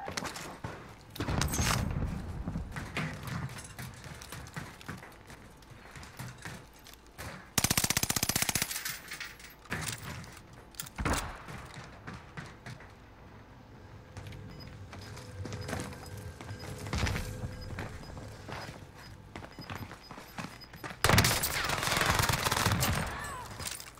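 A PPSh submachine gun fires in a video game in repeated rapid bursts of automatic gunfire, some loud and close, others fainter, with gaps between volleys.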